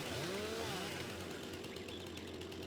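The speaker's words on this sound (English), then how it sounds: "I wonder if I can cut that with a chainsaw" A chainsaw in Farming Simulator 19 runs with a steady, buzzing engine drone at moderate level, and its pitch sweeps briefly at the start before settling into a constant whine.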